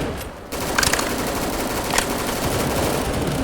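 An HK machine gun firing in the Roblox zombie shooter DEADFRONT, with loud sustained rapid bursts of gunfire after a brief pause near the start and no talking.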